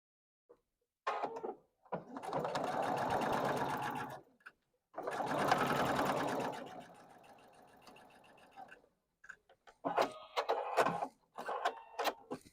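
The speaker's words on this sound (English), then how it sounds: "This is like the easiest part right here. Just sewing around a square." Sewing machine stitching around a quilt block square, running in two long steady bursts with a short pause between, followed by shorter intermittent stitching runs, close and loud with a little quiet talk in the gaps.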